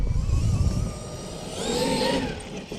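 Ford XRT engine revving in short bursts, loud and close, with a brief blip at the start and a longer swelling rev toward the end.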